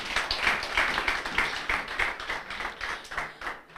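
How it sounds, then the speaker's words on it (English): Applause from the audience for the judges at an inter-university moot court competition, a moderate, steady patter of clapping that holds through the clip and thins slightly toward the end. "A round of applause for our judges."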